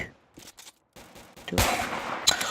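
Gunshots fire in the blocky shooter game Kuboom: a few faint, short pops early on, then a louder sharp burst of shots with a crack near the end, under no talk.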